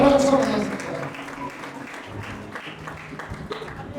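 A congregation claps loudly during a Hindi-language church service, a dense burst of applause that is strongest at the start and then continues more softly beneath a preacher's voice.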